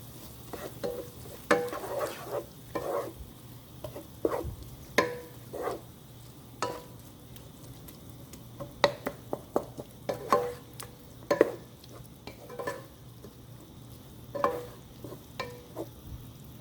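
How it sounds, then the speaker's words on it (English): Tomato paste is stirred into browned beef in a frying pan, with scraping, clacking utensil strokes at an uneven pace over a low steady sizzle, close up and without talking. "I'm going to really blend this sauce or the tomato paste in with the meat."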